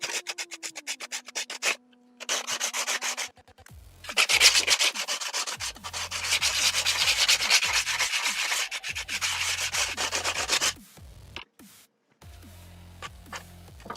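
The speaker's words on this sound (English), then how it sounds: "sanding off the swarf, which is what lightweight filament has a bit of issue with" Steady rasping of sandpaper rubbed over 3D-printed PLA in long back-and-forth runs, with brief pauses between passes, close and alone.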